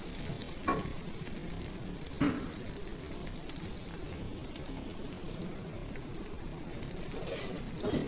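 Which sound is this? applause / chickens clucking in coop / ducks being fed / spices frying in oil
spices frying in oil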